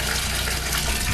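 Water running steadily beside the float of a Kohler generator, a continuous loud gushing hiss with no breaks and no voices.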